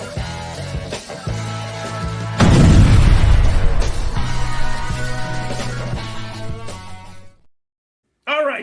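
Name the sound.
fireworks explosions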